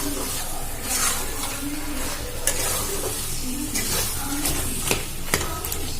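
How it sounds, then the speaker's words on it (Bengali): Boiled potatoes and peas are stirred and fried in a hot pan, giving a loud, steady sizzle with repeated scraping strokes of a spatula, close up and with no talking. "মটর আর দিয়ে দেব সেদ্ধ করা আলু। এবারে এটা নাড়াচাড়া করে ভেজে নেব।"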